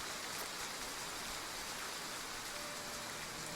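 Steady rain falls in the video game Triangle Strategy, a continuous even hiss of drops with no voices or music.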